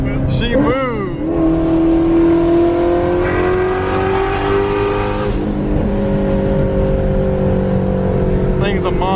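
A supercharged Ford Shelby GT350 race car pulls hard on the street, its engine note climbing loud and close, then dropping at a gear change before rising again; people talk over the roar.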